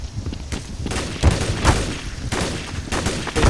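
Gunfire in Counter-Strike: Source on the Chateau or Aztec map: sharp shots and short bursts at irregular intervals, with a louder cluster of shots near the middle, over constant game noise.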